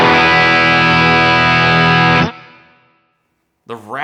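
A thick, heavily distorted electric guitar chord through a Rat distortion pedal rings out loudly, then is cut off and decays, followed by a brief burst of another note.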